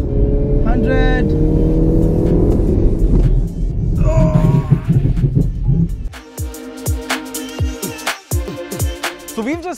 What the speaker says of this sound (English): We're gonna accelerate to 120 kilometers an hour and then slam on the brakes.